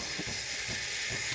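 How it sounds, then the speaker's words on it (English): Steam wand on a Breville espresso machine blowing steam: a loud, steady, close hiss with faint low sputtering underneath, no voices. "I'm gonna start the steam."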